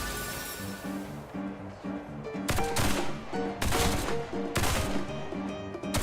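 Video game gunfire, several loud bursts of rapid shots with pauses between them, over steady background music.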